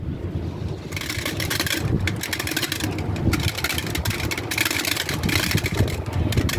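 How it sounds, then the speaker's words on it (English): Blizzard wind roars steadily through an opened bedroom window, a dense continuous rush with gusty surges, loud and close to the microphone throughout, with no talking. "So the wind is blowing it this way."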